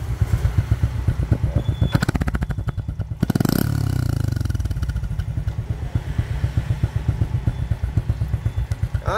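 A Honda Wave Thai 110 motorcycle engine idling steadily close by, a loud throbbing putter with a brief clattering rev in the middle.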